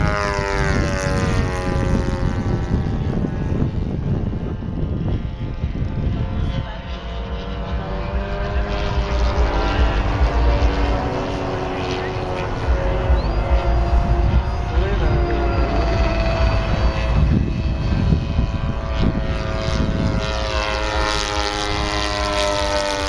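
A small propeller airplane, a Chipmunk, drones steadily and loudly throughout with a buzzing, wavering engine tone, while people talk over it.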